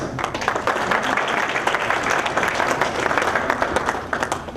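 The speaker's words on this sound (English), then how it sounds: "Let's give them a round of applause." A conference audience at the closing session of an international conference breaks into loud, sustained applause, with many sharp individual claps crackling through a thick, steady wash of clapping.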